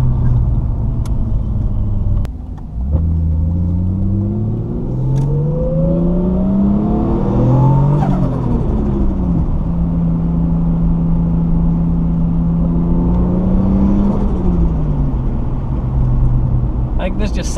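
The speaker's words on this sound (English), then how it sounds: "give it that little bit of blip before you push the clutch in just to get that turbo flutter going" A 1989 Toyota Supra turbo engine revs and drops in pitch through several gear changes, with a brief throttle blip and a fluttering turbo whoosh between shifts, heard from inside the car.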